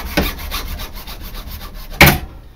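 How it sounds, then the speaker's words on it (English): Hacksaw cutting through plastic, a few close, rhythmic back-and-forth rasping strokes ending in a sharper louder stroke, with no talking. "So we've got the hacksaw."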